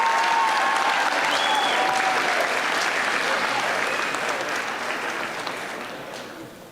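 A high school decision day crowd gives a round of applause for committed students, thick, even clapping from many hands that gradually fades over several seconds, with a faint voice or whistle above it.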